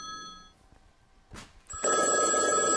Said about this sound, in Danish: Der er telefon.